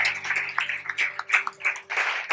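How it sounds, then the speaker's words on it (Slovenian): A live audience claps in rhythmic waves of applause, moderately close and steady, with a sustained musical tone running underneath. "dajmo en aplavz"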